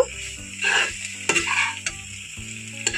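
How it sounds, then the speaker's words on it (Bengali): Chowmein with soy and chilli sauce being stirred in a hot pan; loud close sizzling with scraping spatula strokes and a few metallic clinks, no voices. "সবগুলো খুব ভালো করে নাড়াচাড়া করে নেব"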